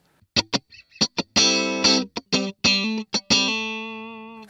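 Electric guitar played through a NUX Amp Academy amp and cab emulator set to a Dr. Z amp model, with bright, dry, slightly driven chords and single notes in short stabs and a final sustained ringing chord, loud and close.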